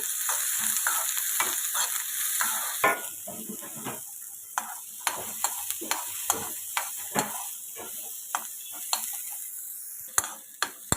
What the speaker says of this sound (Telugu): మనం ముందుగా కట్ చేసి పెట్టుకున్న ముల్లంగి ముక్కలు వేసేసుకొని వేయించుకోవాలి